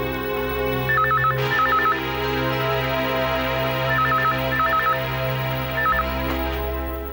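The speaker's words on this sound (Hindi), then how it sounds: "टेलीफोन उठाओ और घुमा दो डायल।" A telephone rings in short repeated electronic bursts, two trills at a time with pauses between, loud and close over a quiet indoor background.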